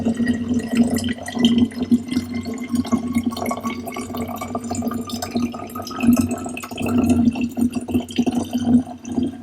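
Water pours steadily into the bubbler of a Brown's gas breathing system, a continuous close splashing fill with a gurgling ring that rises and falls throughout.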